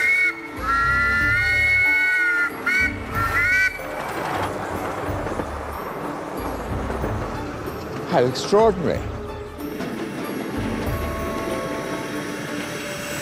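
Model railway train at the bottom of a country-house garden runs along, its whistle sounding in a few bright toots early on and again midway, with rolling rail noise and a person speaking.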